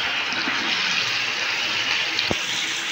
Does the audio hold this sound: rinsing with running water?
yes